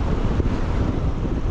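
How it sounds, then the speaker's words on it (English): Strong wind buffets the microphone in a steady, heavy roar on a windy afternoon bike ride at Coyote Hills, with no other sounds standing out. "it's very windy at this time of the day here in Coyote Hills."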